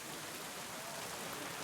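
Steady rain falls in the medieval world of the video game Kingdom Come: Deliverance II, a soft, even hiss that holds without a break and stays faint throughout.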